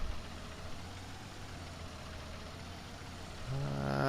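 Tractor in a farming video game, its engine idling with a steady low rumble that swells slightly louder near the end as a higher engine tone rises, with no talking.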